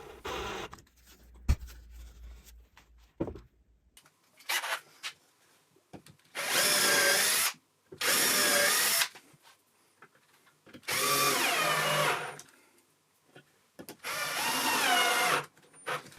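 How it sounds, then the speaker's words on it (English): A power drill drives screws through dowel counterbores into a wooden storage cube, giving four loud whirring bursts of a few seconds each with short pauses between. Quieter handling knocks come first. "a screw in each, driven well into the holes, but taking care not to over-tighten them"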